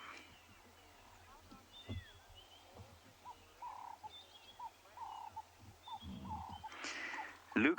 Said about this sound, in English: everything is quiet, but for the beautiful songs of the birds.